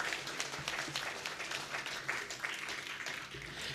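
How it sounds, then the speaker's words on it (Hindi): Applause from the audience at a theatre award ceremony, a continuous wash of many hands clapping at a fairly even, moderate level from start to finish. "उनके लिए आप तालियां जोरदार बजा सकते हैं"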